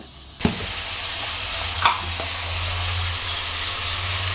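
Chicken pepper fry sizzling in a pan, a continuous close hiss broken by a couple of sharp clanks of a spoon stirring against the pan.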